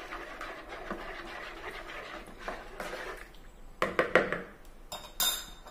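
Yogurt is stirred into naan dough in a bowl, giving soft scraping and mixing sounds followed by several sharp clinks of a utensil against the bowl near the end, heard up close with no voices.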